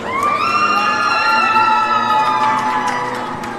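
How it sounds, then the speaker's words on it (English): Loud arena cheering and whooping rises after a goal at a women's college ice hockey game, sustained shouts and high voices for a few seconds before easing slightly, with no clear talk. "Crowd showing their support for Noah Farberman."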